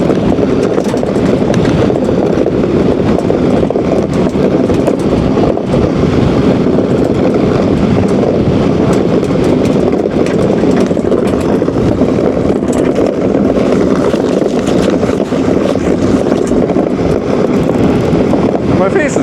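Gusty wind roars steadily across the microphone while iceboating on a frozen Wisconsin lake, a loud, dense buffeting rush that holds without pause for the whole stretch.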